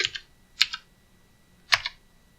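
Typing a command on a computer keyboard comes through as a few sharp, close key clicks in small clusters, separated by short pauses, in an otherwise quiet room.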